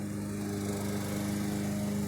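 A lawn mower runs steadily while mowing a lawn early in the morning, its engine drone with strong harmonic hum continuing unbroken at a fairly close, constant level with no talking.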